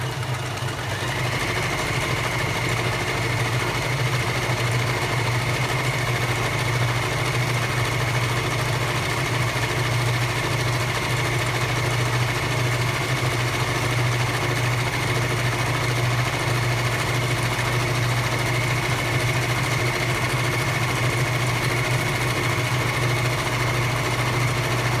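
A sewing machine runs steadily along a length of fabric, its fast mechanical whir and needle rhythm holding an even, close, continuous hum with no talking.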